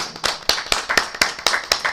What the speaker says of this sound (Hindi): आइए सभी तालियां बजा के प्रभु यीशु मसीह की तारीफ करें।